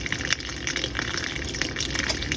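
Water gushing from a tap in a mobile home park after supply is restored, a steady, continuous rush at low pressure, fairly close and alone, with no talking.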